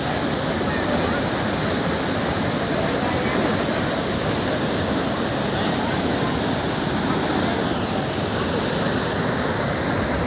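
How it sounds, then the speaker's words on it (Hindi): Dhuandhar waterfall on the Narmada river roars as a loud, constant broadband rush of falling water, steady and close throughout with no pauses. "बहुत ऊपर का टुकड़ा ये है नर्मदा नदी का धुआंधार।"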